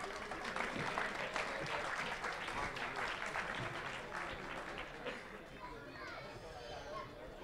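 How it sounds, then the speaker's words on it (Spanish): Faint applause at a mini sumo robot competition, with scattered clapping and lively crowd chatter, children's voices mixed in, tapering off toward the end. "Pues un fuerte aplauso también."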